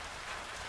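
Steady rain falls in a dense, even hiss, a brief continuous burst of downpour on surfaces with no voices or thunder.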